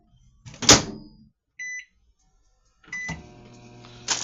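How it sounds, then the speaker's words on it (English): A microwave oven heating a leftover chicken thigh gives a short clunk, then a brief electronic beep, then a steady humming drone with a rattling edge that runs to the end. "Now in the microwave, I have a chicken thigh."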